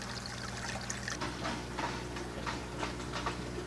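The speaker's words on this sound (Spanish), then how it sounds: "Ven aquí cómo sale la burbujita, la cascadita." Aeration hoses bubble water in an aquarium holding tilapia, giving a steady close hiss with soft, irregular gurgles and trickles throughout.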